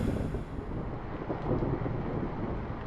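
A cold wind blows as a horror-story sound effect: a continuous low, rumbling rush of moving air with no speech, steady and fairly quiet throughout.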